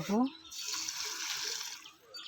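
Water pours steadily onto potted plants in a rooftop garden under strong sun, a continuous hissing splash that runs near and fairly loud, after a brief opening voice.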